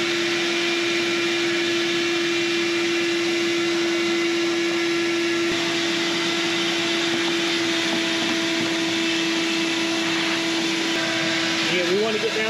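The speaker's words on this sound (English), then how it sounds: "So let's grab a vacuum cleaner." A vacuum cleaner runs with a steady, loud whine and airflow roar while cleaning debris from the engine bay of an abandoned Fiat 124 Sport Spider, continuous throughout, with voices talking over it.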